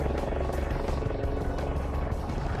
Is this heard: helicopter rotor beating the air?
yes